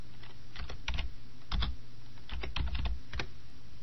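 Clusters of quick, crisp keystrokes on a computer keyboard while a value is entered into a spreadsheet cell, close and clear over a faint steady background hum.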